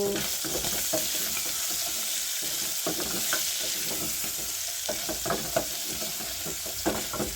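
Onions fry in a pan for a beef stew, giving a steady close sizzle broken by repeated scraping and stirring knocks, with no voices.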